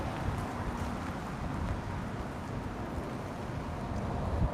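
Strong wind buffets a microphone outdoors on a cold day not far from the mountains, a steady dense low roar with gusty swells that runs the whole time, with no voices.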